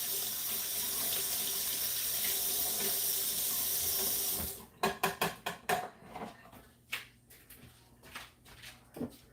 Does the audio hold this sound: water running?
yes